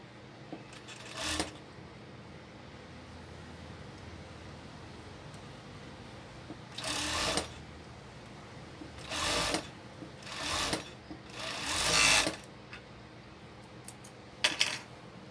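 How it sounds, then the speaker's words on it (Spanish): Several short bursts of a sewing machine joining the side seams of a crop top, each run lasting about a second, separated by quiet handling pauses; no talking. "Unimos costura con costura."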